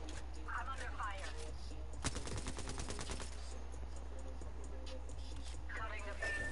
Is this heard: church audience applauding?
no